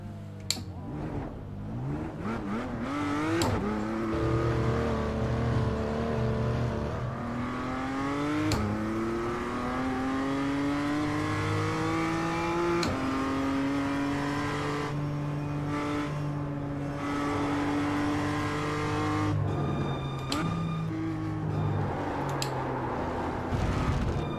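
Race car engine in the iRacing sim, revving loud and steady, then dropping pitch in stepped downshifts with sharp blips between gears, the harmonic whine sliding across several shifts.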